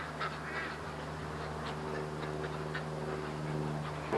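Ducks quacking in a panic as they hurry home near water, a busy overlapping chorus of nasal calls near the listener, steady throughout with no pause and no talking.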